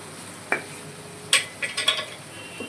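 A spoon stirring dal bati ingredients in a pan, a few quick scraping clacks against the pan over a faint background hiss, close and brief.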